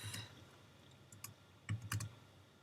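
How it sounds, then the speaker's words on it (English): Quiet typing on a computer keyboard, a few sparse clicks followed by a short cluster of keystrokes, faint and close, with no voices. "I'm just going to type in Rudolph"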